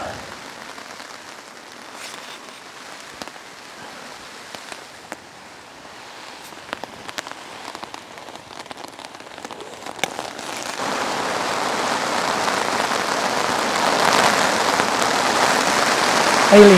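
Rain and hail strike a tent in severe weather while camping, a steady drumming that thickens into a louder, denser roar partway through, with occasional sharper ticks and no voices.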